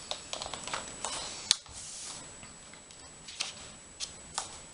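Pages of The Goonies coloring book being flipped, heard as faint, light paper flicks and soft ticks scattered over a quiet room background.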